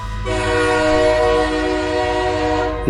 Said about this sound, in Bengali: জোর হুইসেল বাজিয়ে ট্রেন ছেড়েছে